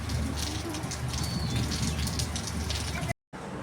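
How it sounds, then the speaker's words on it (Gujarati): Steady rain pours down outdoors in a village during the monsoon as a dense, continuous hiss close by, with faint voices under it before it cuts off briefly at the end. "આજ તો વરસાદ બરાબર ન આવી ગયો"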